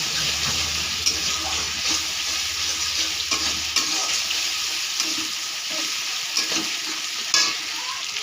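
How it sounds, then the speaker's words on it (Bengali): Tomato, onion and ginger paste being stirred in a frying pan, a steady soft sizzle with scattered scraping clicks of the spoon, close and fairly quiet. "এবারে দিয়ে দেব আদা পেস্ট, দিয়ে নাড়তে থাকবো।"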